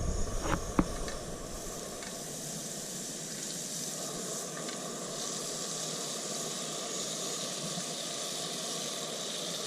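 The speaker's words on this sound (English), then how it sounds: "Now our pan's getting hot, we're just going to put some butter in there." Butter sizzles in a hot pan with a steady, soft hiss throughout, a few brief clinks at the start, fairly quiet and with no one speaking.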